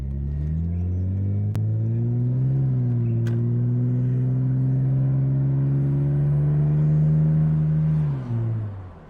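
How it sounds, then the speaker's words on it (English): A 1998 Nissan Skyline R34 25GT coupe engine revs loudly through its exhaust up close, climbing briefly, holding a steady droning roar for several seconds, then dropping back near the end. "Car still sounds like it's got an exhaust"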